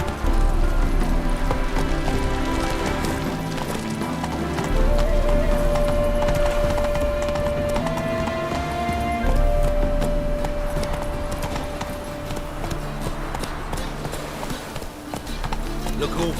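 Roach the horse galloping in The Witcher 3, a continuous rhythmic drumming of hooves over game music and ambient noise, with voices speaking in places.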